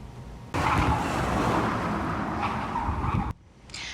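Actress Anne Heche's car speeding down residential streets in Mar Vista, a loud, close, continuous engine roar and road rush that cuts off abruptly.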